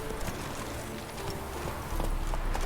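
Roach, the horse in The Witcher 3, gallops with rapid, rhythmic hoof clip-clops, clear and close, growing louder toward the end, over faint game ambience.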